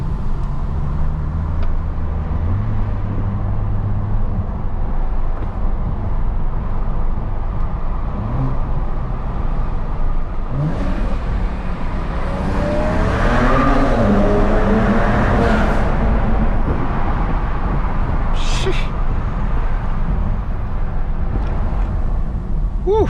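A BMW 335i stage 2+ running E85 at 22 psi of boost accelerates hard through a tunnel, its engine and exhaust roaring and echoing as the note builds, heard from inside the car.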